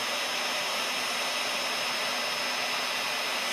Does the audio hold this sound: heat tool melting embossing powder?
yes